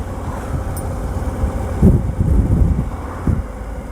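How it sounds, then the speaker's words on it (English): A Suzuki V-Strom 1000 motorcycle with a neutral throttle map mod for snatchy throttle, lugging at low revs in fifth gear, around 1900 rpm at 50 km/h, a steady low rumble with wind noise and a few swells in throttle. "I know this is a little low revving, but this is for testing."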